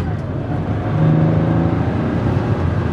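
Engine of an old Porsche 911 hot rod heard from inside the cabin while driving with windows shut, a steady loud low drone with slight rising revs and road rumble.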